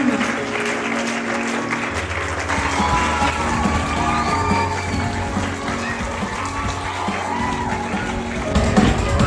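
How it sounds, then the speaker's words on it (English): School audience at an investiture ceremony claps and cheers for a student house, lively sustained applause with shouts and whoops over a low steady hum, swelling again near the end. "Give a big round of applause for house Karma."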